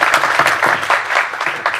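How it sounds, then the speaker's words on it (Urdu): A seated audience at a community gathering in Korangi claps together, a loud dense patter of many hands that stays steady throughout with no gaps. "تو تالیاں بجائیں"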